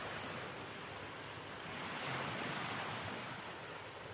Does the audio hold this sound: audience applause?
no